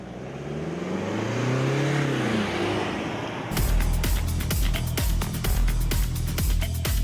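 A 2020 Mercedes-Benz GLC engine swells as it accelerates, its pitch rising and falling smoothly up close. It then gives way to a rougher, rhythmic driving noise with repeated sharp pulses.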